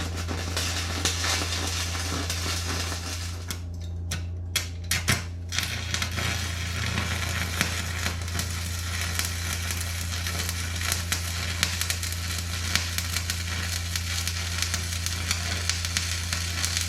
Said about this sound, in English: So I'm gonna weld that up.